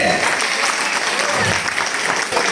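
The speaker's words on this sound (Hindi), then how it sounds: "अरे तालियों का गड़गड़ाहट रुकनी नहीं चाहिए," Dense, continuous audience applause fills the space, steady and loud throughout with no gaps, coming from a crowd at a comedy skit performance.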